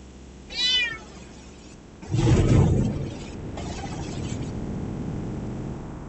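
A Bengal cat lets out one short, rising meow close by, followed by a louder muffled rustle and low background noise.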